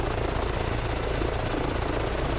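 A helicopter landing in Microsoft Flight Simulator gives a loud, steady rotor thump and engine roar, close and unbroken throughout, with no talking.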